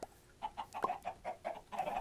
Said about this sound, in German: warum müssen sich die Hühner ständig hier vorne beim Eingang tummeln?